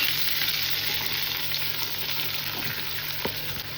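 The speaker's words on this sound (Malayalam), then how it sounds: "നമുക്ക് നമ്മുടെ ചീര അങ്ങോട്ട് ഇട്ട് കൊടുക്കാം" Spinach goes into a pan of frying garlic and oil, and a dense, continuous sizzle fills the clip close up, with a few faint scrapes and clicks of stirring toward the end.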